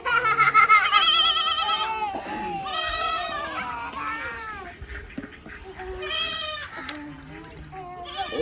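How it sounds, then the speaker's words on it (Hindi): A baby goat bleats over and over, close and fairly loud, in high wavering cries while people talk nearby. "हाँ बकरी का बच्चा।"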